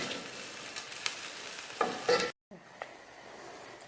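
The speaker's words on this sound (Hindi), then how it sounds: "किशमिश फ्राई कर लेते हैं।" Raisins frying in oil in a pan while preparing Kabuli pulao, a steady soft sizzle with occasional stirring clatters, a brief silent gap midway, then quieter sizzling.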